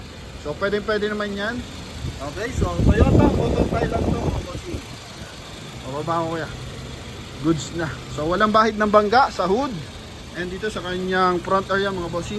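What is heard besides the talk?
Toyota Fortuner gasoline engine idling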